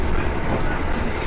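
A Gajayana train carriage rattling and shaking as it moves, a dense continuous rumble with clattering, briefly heard close up, with possible voices mixed in.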